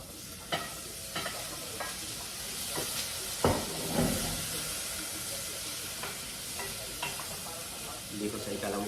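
Tomatoes hit a hot pan for a spicy pork hock sinigang, giving a steady close sizzle broken by sharp clicks and scrapes of stirring.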